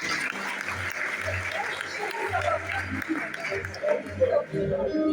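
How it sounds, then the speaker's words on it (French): Audience applause for Daniela at a live show, a moderate, sustained patter of clapping from the crowd with a voice talking over it and some scattered chatter and laughter. "Est-ce qu'on va applaudir pour Daniela, s'il vous plaît, mesdames et messieurs?"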